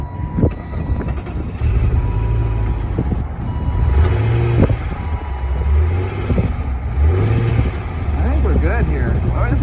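A 1998 BMW 328is five-speed, a salvage car parked for years, runs after restarting: a steady low engine rumble with a few rising revs, heard close with a voice talking over it.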